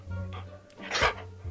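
A husky gives a brief whiny vocalization, a couple of close, soft yelping sounds over a low hum.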